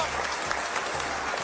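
Audience applause in a Spanish-language TV game show about penalty kicks: dense, loud clapping from a crowd, steady throughout, with a voice talking over it.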